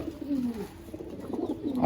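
A pigeon coos nearby in short, low, wavering phrases, one after another, with no other sounds around it.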